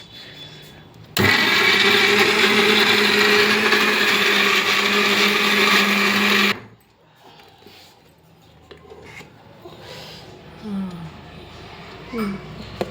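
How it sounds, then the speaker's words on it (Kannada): A mixer grinder whirs loudly and steadily for about five seconds as it grinds peanuts and sesame seeds, then cuts off abruptly, leaving quiet kitchen room sound with faint voices. "ಇದು ಮಿಕ್ಸಿ ಮಾಡ್ತೀನಿ ಈಗ. ಮಾಡಿ ಮಿಕ್ಸಿ ಸ್ಟಾರ್ಟ್."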